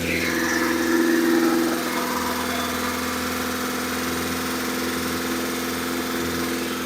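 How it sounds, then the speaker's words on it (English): A car engine idles steadily on its first start-up after a rebuild, with a light, rapid ticking from noisy lifters over the hum and a brief rise in loudness early on. "Lifters are a little louder than I was expecting."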